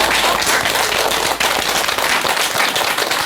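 An audience claps continuously during a health lecture on disease prevention, dense loud applause filling the room without pause.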